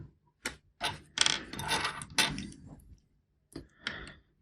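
The plastic barrel of a Rotring Isograph technical pen is unscrewed in a quiet room, producing a few short, close scraping and clicking thread sounds separated by pauses.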